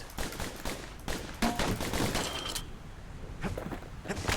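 Rapid gunfire rattles in dense, repeated bursts from the video game Bastion, mixed with game sound effects and no pause in the shooting.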